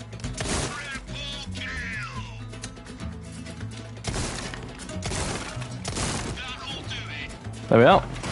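Gunfire from a TMP machine pistol and a riot shotgun in Resident Evil 4, with repeated bursts and cracking shots amid game noise and voices talking throughout.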